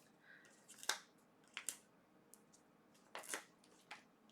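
Scissors trimming the edge of cardstock for a handmade card: a few quiet, crisp snips spaced irregularly, close up in a silent room.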